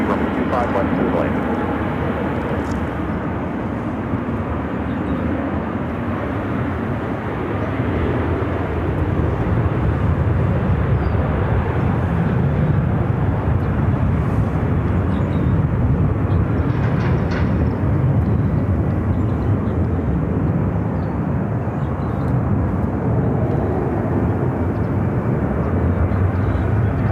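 Aircraft at Phoenix Sky Harbor airport, a loud continuous jet roar filling the whole stretch, steady and broadband like a plane taxiing or taking off nearby, with faint radio-style chatter mixed underneath.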